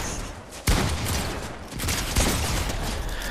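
Shotgun blasts in the video game Fortnite, two sharp loud reports about a second and a half apart over a dense, continuous bed of game noise, with no talking.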